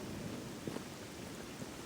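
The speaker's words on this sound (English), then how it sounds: "Don't like the rain there." Rain falls steadily in the S.T.A.L.K.E.R. Gamma video game, a soft continuous hiss with a couple of faint low thumps, quiet and with no talk.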